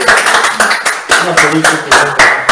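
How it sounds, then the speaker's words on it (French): A church congregation applauds for a brother with loud, rhythmic clapping in regular bursts, close and strong, while voices talk over the beat. "Applaudissez pour le frère."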